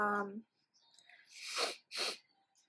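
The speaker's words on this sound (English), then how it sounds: "Sorry, I have the sniffles." A brief voice sound followed by two sharp, breathy nasal bursts, close and loud, like quick sniffles or a sneeze-like snort.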